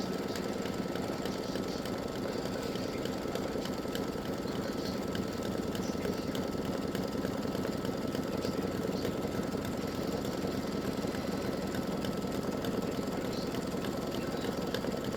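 An embroidery machine sews a triple stitch around a mug rug, its steady, fast mechanical whir and needle chatter running continuously at a moderate level with no pauses.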